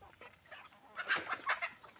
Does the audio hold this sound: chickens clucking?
yes